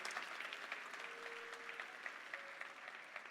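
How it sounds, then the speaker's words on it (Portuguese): Church congregation applauding during an evening family conference service, a steady dense wash of clapping that carries on without a break, with faint tonal sounds held underneath. "aplauda aí Jesus na vida da Lidiane."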